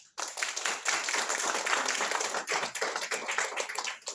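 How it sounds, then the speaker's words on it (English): Audience clapping at a product launch presentation for a probiotic, applauding the organizing team; brisk, continuous hand claps from a moderate crowd, fairly close and steady, starting abruptly and fading briefly near the end. "Let's give them a clap."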